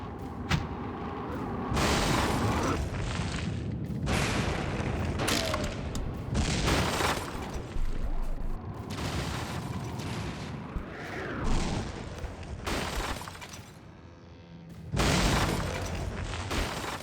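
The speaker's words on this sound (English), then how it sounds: "But man, that's a lot of simple cannons." Cannons fire in a dense, sustained barrage in the Relics of Neter video game, with heavy booms and explosions crowding together in loud, near-continuous bursts and only brief lulls.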